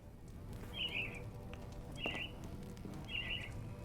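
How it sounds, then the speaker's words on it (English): Birds in the Sherlock Holmes: The Awakened game give three short, bright chirping calls spaced about a second apart over a low ambient background. "Why are the birds here?"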